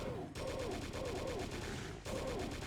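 Rapid chaingunner fire in Doom 2 TNT Evilution, a loud continuous burst of repeated shots that drops out briefly near the start and again around two seconds before resuming.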